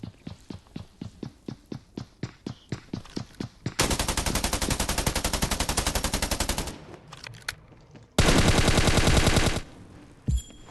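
Automatic weapon fire in the video game Scarfall: a string of loud single shots, then a long rapid burst, a pause, and a second sustained burst before one last shot, all close and dominant.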